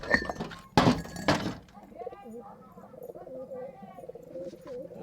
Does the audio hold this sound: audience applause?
no